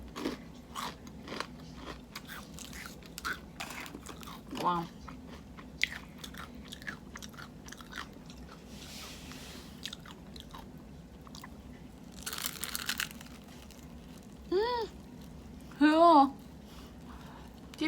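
Crispy fried chicken bitten and chewed indoors, several crunchy bites and chewing sounds close up, with a couple of short louder crunches near the end and faint speech-like sounds at times.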